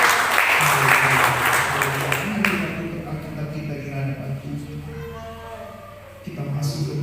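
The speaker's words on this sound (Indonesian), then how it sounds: "Berikan dulu tepuk tangan" Congregation applause at a Pentecost church service, heavy clapping at first that fades after a couple of seconds into a quieter room with a sustained musical tone and a voice underneath.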